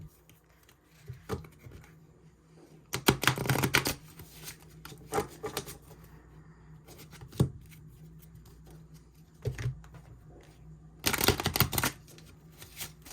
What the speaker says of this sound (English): Sorry, this shuffle is so bad.